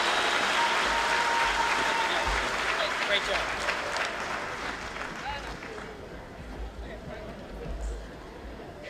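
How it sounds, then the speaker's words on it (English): Audience applause at the Strut For The Cure 2019 fashion show, a dense steady clapping from a large crowd that gradually thins, with a voice speaking briefly over it. "Now give yourselves all a huge round of applause and enjoy the show."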